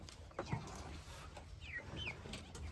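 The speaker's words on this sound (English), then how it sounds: "these are the little birds we had inside the house last month" Small farm birds in a pen give soft clucks and chirps, with a few short calls scattered over low background noise and no talking.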